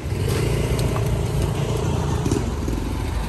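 A motorized tricycle carries passengers on a ride to a market, its engine droning loudly and steadily up close, with a rattling clatter throughout.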